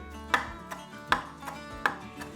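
A knife chops raw tuna for tartare on a board, cutting across the muscle fibre. Three crisp, evenly spaced cuts sound close and clear, with softer taps between them and no talk.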